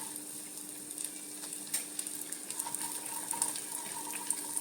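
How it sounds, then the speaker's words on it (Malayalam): Raisins frying in a pan, a steady soft sizzle with faint crackles and light stirring scrapes running throughout, close and moderately quiet, with no voices. "ഇച്ചിരി മുന്തിരിങ്ങായിട്ട് നമുക്കൊന്ന് രണ്ടും കൂടെ ഒന്ന് ഫ്രൈ ചെയ്തെടുക്കാം"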